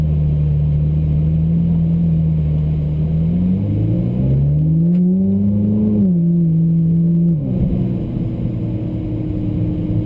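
A Ferrari 458 Italia in race mode accelerates hard, its engine note climbing through a gear, dipping briefly at a shift, then rising again, loud and close with no talk over it.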